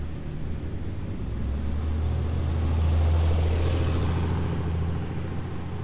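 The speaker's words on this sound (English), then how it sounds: "Cars. Car sounds." Car sounds from the video game The Crooked Man: a low engine hum that swells to a peak near the middle and then eases off. It is steady and fairly loud, with no voices over it.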